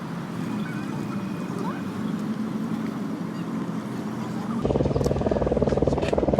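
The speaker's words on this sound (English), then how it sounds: "Listen to the sound of the helicopter and the scene." Helicopter hovering over the Sydney to Hobart yacht race, a steady broad rotor-and-engine roar with wind and water noise that thickens and grows louder partway through.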